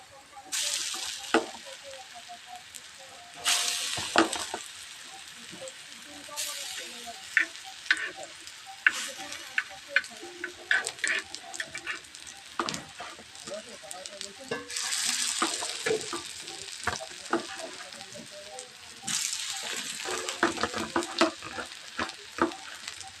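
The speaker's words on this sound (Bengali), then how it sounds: "আমি চাটুতেই বড়া ভাজি" Bora fritters frying in a little oil on a flat tawa griddle give a steady close sizzle, broken by frequent clicks and scrapes of a spatula and a few louder bursts as the fritters are turned.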